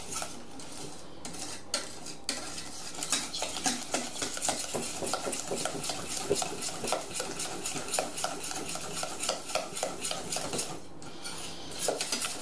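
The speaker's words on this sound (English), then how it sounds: "whisk this together to combine it" A whisk beats clementine custard tart filling in a bowl, making quick, rhythmic clinks and scrapes against the sides that run steadily for several seconds without any voices.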